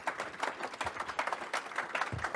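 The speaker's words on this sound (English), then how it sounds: "clap it up for Michael Vaughan with Advanced Linux" Faint, scattered clapping from a small audience welcoming a speaker to an Advanced Linux education session, irregular claps spread across a couple of seconds with no voices over them.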